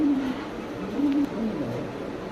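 Spanish pouter pigeons coo softly in repeated low, rounded phrases, moderately close, with steady background noise and no talking.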